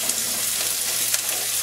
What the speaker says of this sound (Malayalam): ഈ സവാള കട്ട് ചെയ്തതങ്ങ് ഇട്ട് കൊടുക്കാം